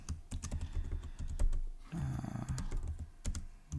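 Rapid keystrokes on a computer keyboard while code is written, a steady run of sharp clicks close to the microphone, briefly thickened by a low hum partway through.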